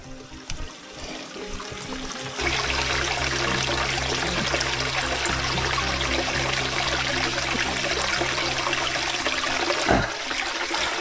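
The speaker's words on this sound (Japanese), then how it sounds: "もう水の音が聞こえる。" Water trickles from a rock crevice in an Asian jungle: after a quieter opening, a steady, close, full wash of flowing water runs unbroken to the end.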